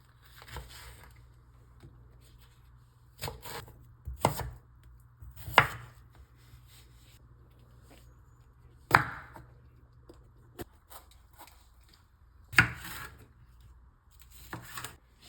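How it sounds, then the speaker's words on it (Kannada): A knife chops vegetables on a board for capsicum rice bath, with sparse, irregular sharp thuds spread across a quiet stretch, close by and without speech. "ನಾನು ವೆಜಿಟೇಬಲ್ ಕಟ್ ಮಾಡಿ ಕೊಡ್ತೆ"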